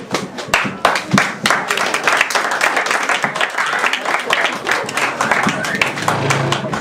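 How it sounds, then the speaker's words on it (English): A class audience claps before a school performance of Hamlet, a dense round of hand claps with sharp individual slaps standing out, steady and fairly loud throughout. "Clap."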